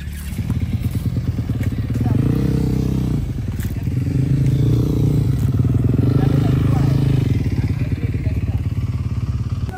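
Dual-purpose motorbikes ride a motocross dirt track, their engines droning loud and steady with rising and falling revs and a few clattering thumps, while voices carry over the noise.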